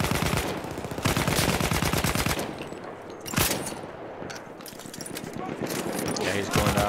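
Rapid machine gun fire rattles at a bomber during a video game flight battle, with sustained automatic bursts, a brief pause and a sharp impact, while players talk over it.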